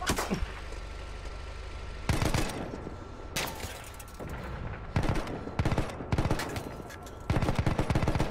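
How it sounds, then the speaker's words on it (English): Bursts of video game gunfire from an upgraded weapon, loud sharp volleys and rapid clusters of shots repeating throughout with short gaps between them. "now I've got a better gun"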